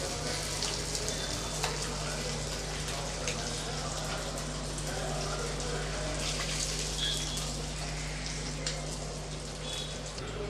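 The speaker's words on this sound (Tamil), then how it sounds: "இப்போ இதே மாதிரி எல்லா மீனையும் நம்ம வறுத்து எடுத்துக்கலாம்" Pieces of masala-coated fish fry in a pan, giving a steady, even sizzle and crackle that runs unbroken throughout, with a low hum underneath and no talking.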